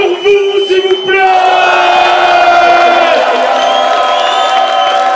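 A crowd at a French rap battle cheers, whoops and shouts loudly, with sustained yelling voices building after a brief moment and continuing strong throughout.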